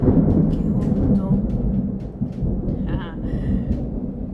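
Thunderstorm with rain in Florida, a low rumbling roll of thunder under steady rainfall, with faint voices briefly showing up over it.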